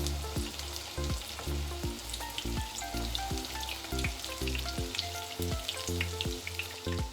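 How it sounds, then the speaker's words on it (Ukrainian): Steady oily sizzling of cabbage fritters frying in a pan, continuous and close, with faint pops and crackles throughout. "Ще декілька хвилиночок обсмажуємо латки з іншого боку"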